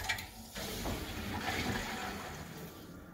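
Steady rushing and gurgling of water being flushed through a Rinnai V65iP tankless water heater's pipes, a continuous moderately quiet wash with no pauses.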